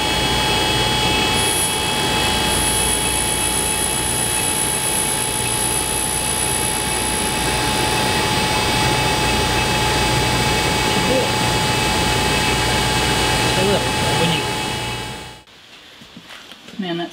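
A cutter grinder with a diamond wheel grinds abrasive ceramic prototyping material, a loud, steady, high whine with broadband hiss that runs unbroken for about fifteen seconds before cutting off abruptly.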